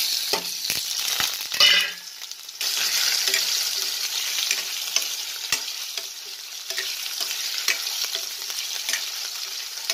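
Potatoes tossed into hot oil with cinnamon, cumin and asafoetida for a vegetarian potato curry, a burst of loud sizzling and clattering as they go in, then a steady crackling fry with stirring scrapes.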